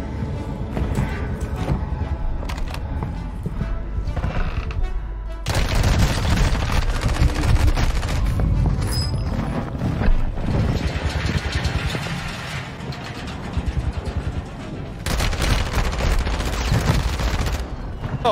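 Rapid bursts of automatic gunfire from a Warzone 2 match, dense and loud across the whole stretch, with repeated volleys, sharp impacts and a steady mechanical rumble underneath.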